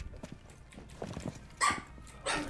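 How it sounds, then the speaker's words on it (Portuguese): Dog barking in a few short, soft yips, with two brighter bursts near the end, heard under faint game background noise. "Olha o latido do cachorro do Driz, parece um ursinho de pelúcia latindo."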